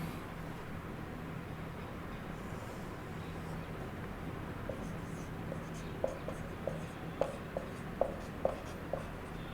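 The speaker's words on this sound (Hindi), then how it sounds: "आर्टिकल 77 इधर लिख लेता हूं" Marker or chalk writing on a board during a lesson, a soft scratching that turns into a series of sharp rhythmic taps and strokes toward the end, over a low background hum.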